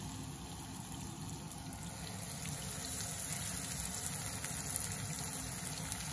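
Chicken wings frying in a little oil in a home pan, a steady, close hissing sizzle that holds evenly throughout with no voices over it.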